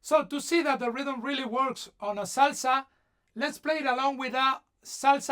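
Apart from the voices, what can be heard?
No distinct noise like a dog, phone or traffic.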